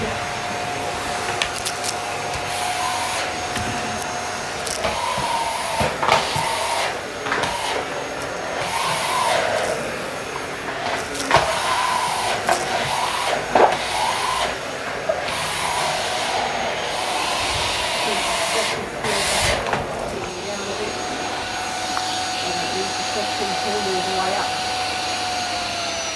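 A household vacuum cleaner suctioning while cleaning a home, holding a continuous whining drone with brief bumps and surges as it moves, fairly loud and near.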